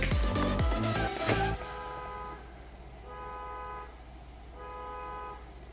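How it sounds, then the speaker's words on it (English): A loud burst of clattering noise gives way to a steady, repeating electronic horn tone sounding in regular pulses, from a car alarm going off nearby by a church behind a house. "That sound is a car alarm."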